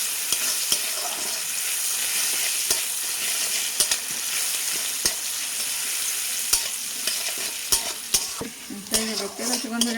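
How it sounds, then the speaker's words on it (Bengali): Sliced onions frying in oil in a pan while a spatula stirs and scrapes, a steady sizzle broken by repeated sharp clinks and taps, with a busier burst of stirring near the end. "আমার পেঁয়াজ ভাজা হয়ে গেছে"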